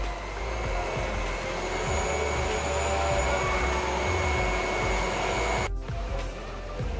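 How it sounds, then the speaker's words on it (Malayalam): An electric hand beater whips cream for a pineapple bread pudding in a steady, close, continuous whine that cuts off briefly near the end. No one talks. "ഇതൊന്ന് ബീറ്റ് ചെയ്തിട്ടെടുക്കണം."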